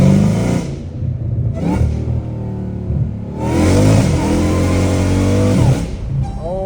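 A straight-piped Dodge Hellcat Redeye engine screams through repeated loud, close revs, rising in pitch with each burst and separated by brief dips, the longest pull lasting over two seconds.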